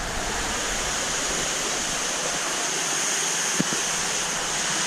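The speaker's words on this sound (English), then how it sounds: "So the water is just showering down on the pot scrubbers" Aquarium filtration water showers steadily down onto pot scrubbers in a shower tower for a large tank sump system, making a dense, even splashing rush throughout with one brief knock near the end.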